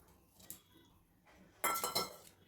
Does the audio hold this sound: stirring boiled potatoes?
yes